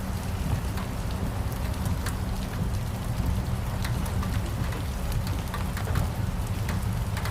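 Steady rain falling on a surface, a dense continuous patter with scattered louder drops, no voices.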